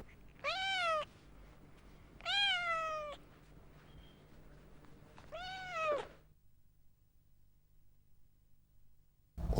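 A cat meows three times in clear, separate calls spaced a couple of seconds apart, close and distinct over a quiet background, followed by near silence and a brief noise at the end.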